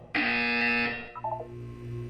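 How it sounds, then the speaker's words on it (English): A loud electronic buzzer in the video game Portal 2 sounds once, a harsh sustained tone lasting about a second, followed by a quieter low hum with brief electronic blips. "When you hear the buzzer, look down at the floor."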